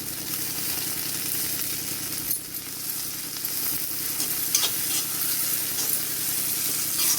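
Curry leaves crackling in hot oil for a crispy potato fry, a loud, continuous close sizzle with light stirring and a brief dip partway through, no voices.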